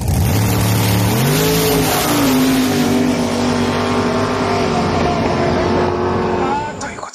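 A 1964 Corvette Stingray C2 engine revs up loudly close by, its tone climbing as the car pulls away and holds a strong steady drone before fading at the end, with voices talking underneath.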